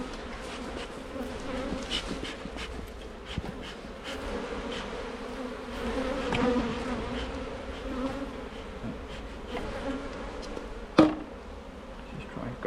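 Honey bees buzz steadily around an open hive during a colony inspection, a dense droning hum with a few sharp knocks and clicks from handling the frames, and a loud thud near the end.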